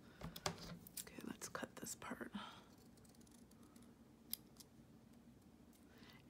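Scissors cutting paper for a Bible journal make a quick, close run of crisp snips for about two seconds, then things go quiet except for faint whispering and a stray click.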